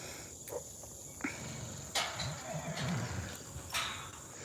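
Big Belgian draft horses at an auction facility, heard through a few sharp knocks and soft shuffling hoof sounds over a constant background of chirping crickets, with no talking.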